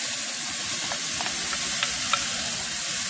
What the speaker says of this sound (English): now I'm going to add my mushrooms and onions back in there